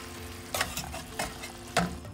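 Fish molee fries in a pan with fennel seeds and garam masala as the fish is flipped, a steady sizzle broken by a few close scrapes and clatters.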